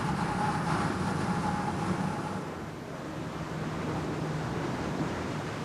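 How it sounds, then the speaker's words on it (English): Surf rolling in along a long open beach, a continuous broad wash of waves, fairly loud with some wind noise on the microphone, with no voices over it. "The beach just goes on and on."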